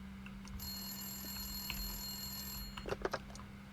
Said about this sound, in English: Okay, let's answer the phone.